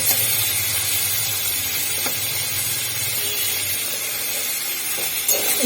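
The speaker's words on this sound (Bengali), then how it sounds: "তো এইভাবে নাড়িয়ে চাড়িয়ে একটু ভালো করে ভাজতে হবে।" Spicy chili chicken fries in a pan with a steady, close sizzle and hiss, joined by a low rumble and an occasional scrape of stirring, with no voices.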